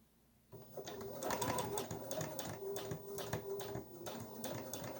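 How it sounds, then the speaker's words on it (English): A sewing machine stitches a 3/8 inch seam along a decorative pillow cover, starting after a brief quiet moment and then running in a steady, rapid mechanical rhythm close by. "I'm going to sew about a 3/8 inch seam"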